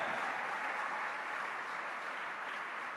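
An audience applauding a young picture framer, a dense, steady wash of clapping that holds at an even level throughout without a break.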